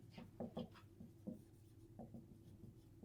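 A pen writing out a math equation on paper, heard as faint, close scratchy strokes in short bursts with pauses between them and no talk.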